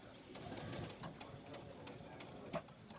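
A sewing machine runs a back stitch on an ID pouch. Its quiet, rapid mechanical whirr and needle clatter play close but low, with a small bump near the end.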